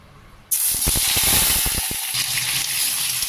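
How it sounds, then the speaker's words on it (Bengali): Chicken pieces drop into hot oil in a wok, setting off an abrupt, loud hiss and sizzle with crackling pops that settles into steady frying. "এরপর এটাকে চিকেনগুলোকে আস্তে আস্তে একটা একটা করে আমি ফ্রাই করা স্টার্ট করব"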